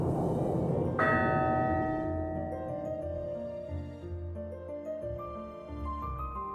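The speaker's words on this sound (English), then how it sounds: "When the bell in the chapel strikes for the 9th time" A chapel bell in the video game Dark Tales strikes once, loud and close, its metallic tone ringing on and slowly fading over a low background drone.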